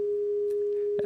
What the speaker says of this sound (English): this will play first the bass tone, 200 hertz